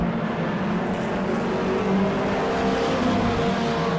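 Race cars lapping a dirt track at Auburndale's season opener, engines droning and roaring continuously as several cars circle, the sound swelling slightly as they pass nearer.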